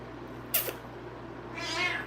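A cat with arthritis at a veterinary check-up lets out a short sharp cry, then after a pause a longer drawn-out yowl, close by against a quiet humming background.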